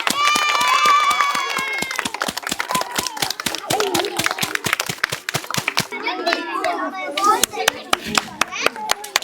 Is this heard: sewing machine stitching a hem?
no